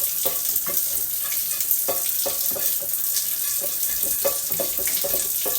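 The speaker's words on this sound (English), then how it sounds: "And then I start with the scrub brush. And I make sure I scrub it good." A cast iron skillet is scrubbed with a brush and dish detergent at a sink, giving rhythmic, close, wet scraping strokes over running water, with no voices.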